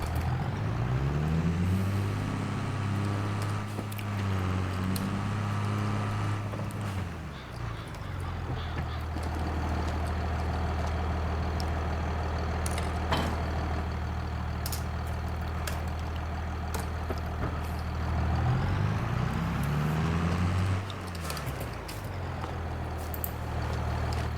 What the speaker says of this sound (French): ranger le tracteur